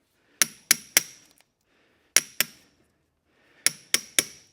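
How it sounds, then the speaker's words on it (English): A ball peen hammer strikes a metal punch in sharp, ringing metallic blows, three quick groups of two or three hits each, close and loud with brief silence between groups. "ball peen hammer doesn't really help, but that's just what I grabbed"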